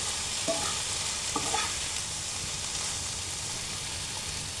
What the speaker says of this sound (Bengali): আমি আর 2 থেকে 3 মিনিট একটু ভেজে নেব, নিয়ে নামিয়ে নেব।